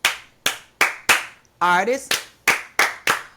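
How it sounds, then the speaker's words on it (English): Podcast hosts clap in a steady rhythm, eight sharp, close claps in two groups with a brief burst of spoken words between them. "Come on, clap us in."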